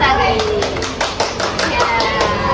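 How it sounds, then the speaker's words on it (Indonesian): Applause from an audience, likely children, greeting guests Kak Anggi and Kak Novitasari at a school talk, a few seconds of steady clapping, fairly loud and close, with voices mixed in. "Tepuk tangan untuk Kak Anggi dan Kak Novitasari"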